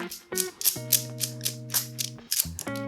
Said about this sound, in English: all I have to do is to rotate this nut all the way up